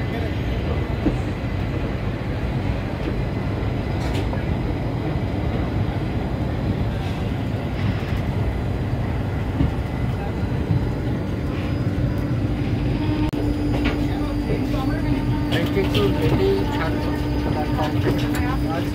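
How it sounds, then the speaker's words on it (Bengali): Inside an evening passenger train that has left Shalimar station, a loud, continuous roar of rolling wheels and carriage rattle persists throughout, with occasional clicks and a faint tonal whine later on. "আমাদের ট্রেন 8:36 শালিমার স্টেশন থেকে ছাড়লো"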